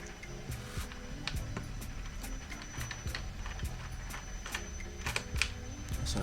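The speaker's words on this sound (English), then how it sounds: "Just using a 3mm hex key now, just undoing the 2 bolts on the back of the display." A 3mm hex key loosens the two bolts on the back of a KTM 390 Duke display, giving a run of quiet, close metallic clicks and ticks at an irregular pace with no talking.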